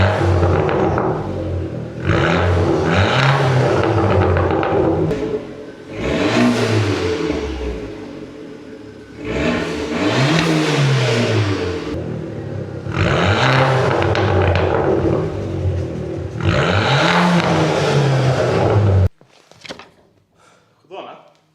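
An Abarth 500 with 300,000 km on it revs hard in repeated long, loud surges that rise and fall over about twenty seconds, then cuts to quieter thumps and scrapes.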